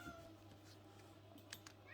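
A cat meows faintly in a quiet home, a couple of short thin cries over a steady low hum and light background rustle.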